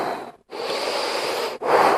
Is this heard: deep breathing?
yes